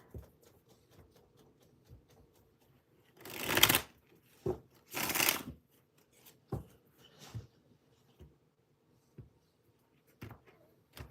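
Tarot cards shuffled by hand, giving two louder bursts of riffling and sliding among scattered soft taps and shuffles of the deck, close and fairly quiet.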